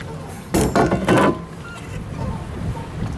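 A hammer strikes a steel plate in a short cluster of sharp, ringing metallic blows, then the room goes quiet apart from low background noise.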